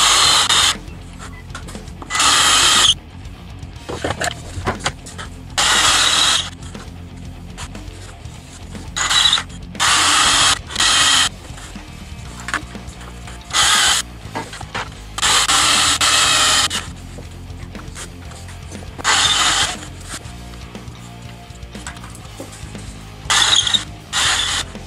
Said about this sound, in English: This is a really good drill bit, which I found, which allows me to do this to the exact diameter.